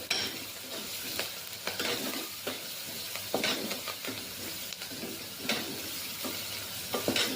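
Spices and coriander stirred into frying pav bhaji in a pan, a steady sizzle broken by repeated rhythmic scraping strokes of a spoon against the pan, close and clear with no talking.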